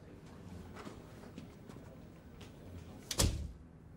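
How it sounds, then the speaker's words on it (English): An office door shuts with a single firm thud near the end, preceded by faint shuffling and quiet room noise. "Close the door, Julian."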